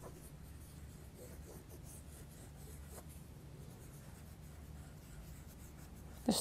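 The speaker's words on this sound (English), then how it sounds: "So I'm just going to keep scribbling around this bit." Derwent Inktense pencils scribble in random squiggles across fabric, a faint continuous scratchy rubbing close up, with one brief louder scuff at the very end.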